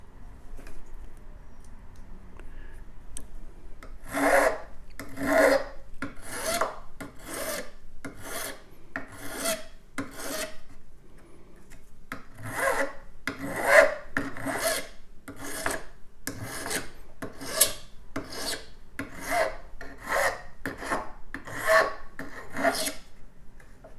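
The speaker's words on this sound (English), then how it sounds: "Notice as I'm filing, I'm only going in the forward direction because that is the most effective way to use your file." A hand file shapes porcupine quill earrings in steady forward strokes, about twenty evenly spaced rasping passes in short bursts, close and clear with quiet gaps between strokes.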